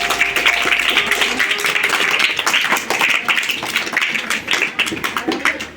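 A school crowd at a primary-section annual sports day claps steadily, with chatter and voices running underneath the continuous applause.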